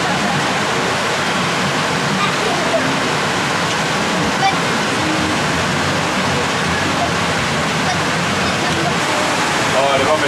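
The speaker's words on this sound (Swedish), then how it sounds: "Det här är alltså en kroppstork." At LEGOLAND Malaysia, a body dryer blows a loud, continuous rush of air for drying off after a wet ride, a steady roaring hiss that fills the whole clip, with a voice talking faintly beneath it.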